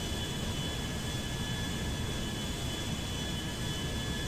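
Airplane engine in GTA 5, a steady loud roar with a continuous whine held throughout, with no voices.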